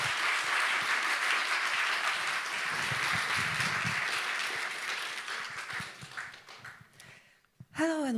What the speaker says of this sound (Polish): Przywitajmy wszystkich bardzo gromkimi brawami.